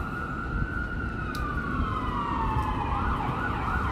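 An ambulance siren wails steadily, its pitch slowly falling before shifting to a warbling yelp, heard over road noise.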